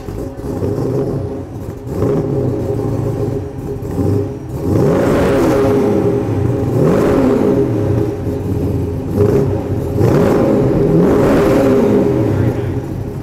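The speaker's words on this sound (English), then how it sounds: "let's see how it sounds when he fires up that 650 horsepower Ford" A 650 horsepower Ford V8 in a show car at a Mecum auction idles with a deep rumble, then revs repeatedly in rising and falling surges, loud and close, with crowd murmur behind.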